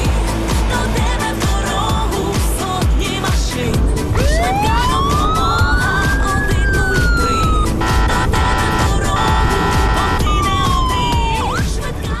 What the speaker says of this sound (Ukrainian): Боже, що це було? Це пожежні були.